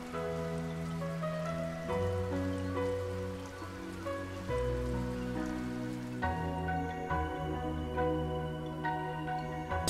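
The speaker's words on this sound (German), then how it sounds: "Und es fängt sofort an zu regnen." Rain falls in the video game Ys VIII, a steady pattering wash heard under sustained game music that shifts partway through, with no talking.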